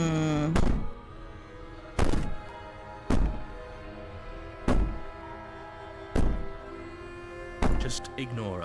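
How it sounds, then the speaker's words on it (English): Heavy banging on a wall in Slay the Princess, six loud, evenly spaced thuds about a second and a half apart, ringing against a low droning background. "Maybe the banging and wailing will stop if you just don't pay attention to it."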